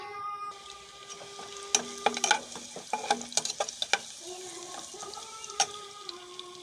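Ingredients for pulao fry lightly in a pan while a utensil stirs them, giving a steady soft sizzle under sharp, irregular scraping clicks near the microphone, with no talking.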